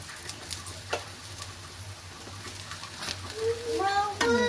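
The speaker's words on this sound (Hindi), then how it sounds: "इसमें रिफाइंड डाल रखा है और इसमें सेकने को रख दीजिए" Food fries in refined oil on a pan with a steady low sizzle and light stirring noises, while voices and a child's chatter rise over it toward the end.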